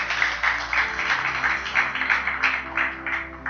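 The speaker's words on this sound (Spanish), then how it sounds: "Bendecirle con un fuerte aplauso a Dios si le estás creyendo" A church congregation claps together in a steady, rhythmic run of applause that lasts throughout, with a continuous musical hum underneath.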